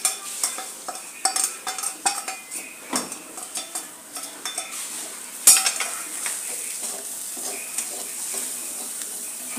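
Dry spices such as turmeric, cumin, garam masala and coriander powder are stirred into a frying mixture, a spoon scraping and tapping the pan in quick repeated strokes over a constant low sizzle.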